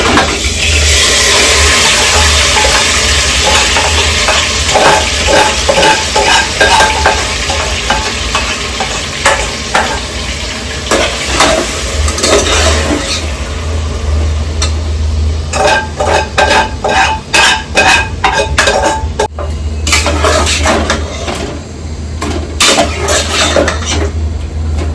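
Marinated chicken for dum biryani sizzles loudly in a hot pan while a spoon scrapes and stirs against the metal, the frying hiss constant and the stirring strokes coming in quick bursts, especially toward the end.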